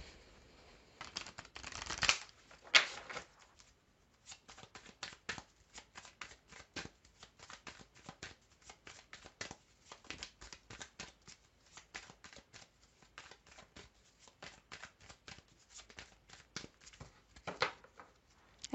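Tarot cards are shuffled close up, with a dense riffling burst near the start followed by a long run of soft, rapid flicking and slapping of the cards.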